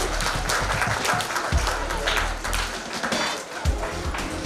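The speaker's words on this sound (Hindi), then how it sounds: "जोरदार तालियां." Applause at a school chess championship awards session, a loud, steady burst of clapping from a hall crowd that continues for the whole stretch, with heavy low rumble and occasional thumps.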